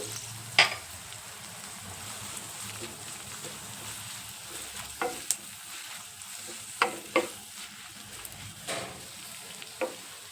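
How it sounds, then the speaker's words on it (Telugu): Ginger garlic paste, onions and green chillies fry for tomato rice, making an even crackling sizzle with repeated sharp clacks of a spoon stirring against the pan. "ఉల్లిపాయలు అల్లం ఉల్లిపాయ పేస్ట్ పచ్చిమిరకాయలు అన్నీ వేగిపోయినాయండి"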